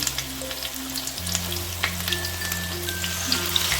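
Amudi fish frying in a pan over a medium flame, a continuous close sizzle with light crackling pops, alongside a steady low hum and no voices.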